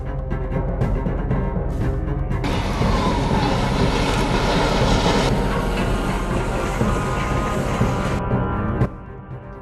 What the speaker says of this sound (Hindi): ट्रेन तो चलती जा रही है